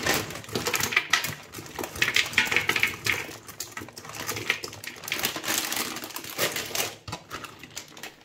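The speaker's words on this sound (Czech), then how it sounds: "dneska tam teda přidám kešu oříšky" Cashew nuts tipped into a bowl of homemade granola mix give a steady, close crunchy rattle and patter that continues without pause for several seconds.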